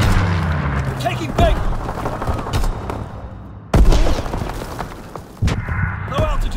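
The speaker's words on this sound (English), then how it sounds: "Strafing run inbound." Gunfire and explosive booms from an aerial strafing run in Call of Duty WWII domination on the Shipment 1944 map, rolling bursts with heavy low rumble and sudden loud impacts, voices talking underneath.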